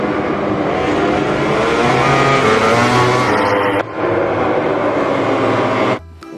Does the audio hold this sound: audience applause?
no